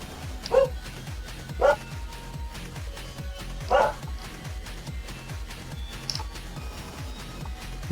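Three sharp barks from a neighbor's dog down the street ring out at irregular intervals, moderately distant, with a fainter yip later over continuous background hum.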